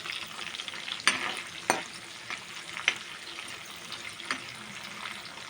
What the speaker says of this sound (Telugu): ఆయిల్ హీట్ ఎక్కాక పచ్చిమిర్చి, షాజీరా, జీలకర్ర, ఉల్లిపాయలు బాగా కలుపుకోవాలండి.